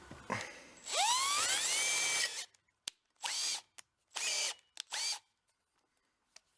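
A power drill whirs in several short bursts: one long run with a rising pitch, then three quick separate spurts, loud and close.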